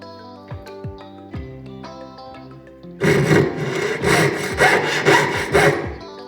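A handheld saw cuts through a thin gold strip destined for a wedding ring, first a few light ringing taps and strokes, then a steady rapid back-and-forth rasping close up, with no talking.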